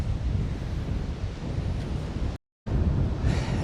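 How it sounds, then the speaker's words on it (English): Ocean surf breaking below a cliff near Pacifica, California, a steady, loud broadband wash with wind buffeting the microphone, cut by a brief silent gap before the roar resumes. "It's always cool just to find a spot overlooking the ocean."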